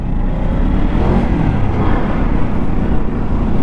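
A 2023 Kawasaki Ninja 300 motorcycle engine revs and accelerates steadily with a loud, close, continuous drone that holds strong throughout without a break.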